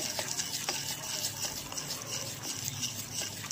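Rava appe batter mixed with baking soda is whisked briskly in one direction, a close, rhythmic scraping and swishing that repeats steadily throughout.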